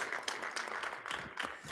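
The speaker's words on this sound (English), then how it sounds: "a round of applause, please, for our technology integration specialists" Clapping from a crowd at a school board meeting, a brief burst of applause heard at a moderate distance.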